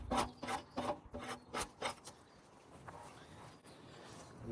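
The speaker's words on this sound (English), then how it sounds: "The little scraper works pretty darn good." A small hand scraper rasps bark off a log in a series of rough, rhythmic scraping strokes close by, which then give way to a quieter, steady rubbing.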